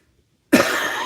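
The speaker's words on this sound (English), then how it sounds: "That's the first time I coughed in I don't know how many days." A man coughs once after half a second of silence, a sharp close burst trailing into a rough, sustained raspy exhale.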